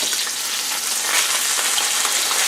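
Pork chops frying in a pan, a loud, close, continuous hissing sizzle with fine crackle throughout, no voices.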